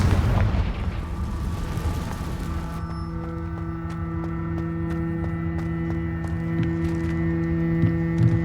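A Confringo fire spell blast in Hogwarts Legacy opens with a heavy booming burst that fades into a sustained humming drone dotted with sharp crackling pops over several seconds.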